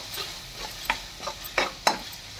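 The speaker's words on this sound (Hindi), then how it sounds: "और इनको कर देंगे खूब अच्छी तरह से मिक्स मसालों के साथ ही" Cooked macaroni is mixed with mayonnaise and spices in a pan, with a handful of soft, irregular scrapes and clinks from the spoon over a faint sizzle.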